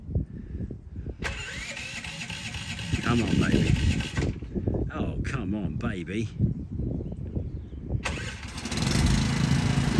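An old car's starter motor cranks and whirs in repeated attempts to fire the engine, loud and close, while a man pleads with it between tries.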